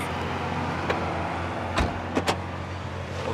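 A 480-horsepower sports car from a Franco-Japanese make runs with a steady, low engine hum close by, broken by a few short clicks and thumps.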